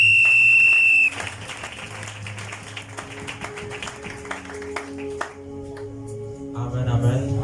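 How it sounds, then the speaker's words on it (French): A church congregation bursts into applause for the Lord, a steady wash of clapping with some taps and crowd murmur after a short tone at the start, with voices rising near the end. "on acclame le Seigneur"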